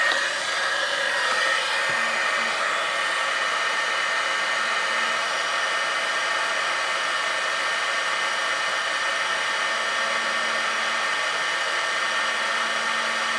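Heat gun melting embossing powder on a craft card, blowing with a steady, close whooshing hiss that runs unbroken from start to finish.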